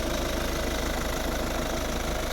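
A 2010 Volvo V50 with a 1.6 HDi 109 hp diesel engine idles steadily, a close, even low rumble with a faint knocking rhythm and no talk.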